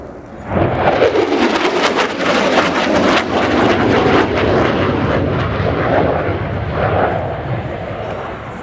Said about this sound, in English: The two General Electric F110G129 turbofans, full afterburner